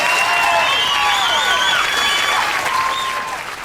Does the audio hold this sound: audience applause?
yes